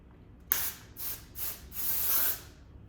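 Four short hissing bursts from an aerosol can of volume and matte texture hairspray, close by, each a second or less, the last one longest, with quiet between.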